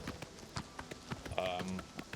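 Horse hooves clip-clop at a steady trot in a video game, a regular run of soft knocks while other game sounds and brief tonal effects mix in.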